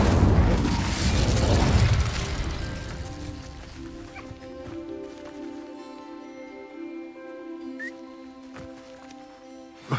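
Incendio fire spell cast in Hogwarts Legacy: a loud burst with a roaring whoosh opening, then fading into a low crackling rumble with faint tonal game ambience and a small click at the end.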